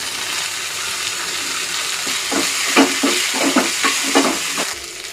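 Radish leaves and onions sauté in a pan with a steady hiss of frying, broken by repeated scraping stirs that come in a rhythmic run near the middle, close and clear with no talking.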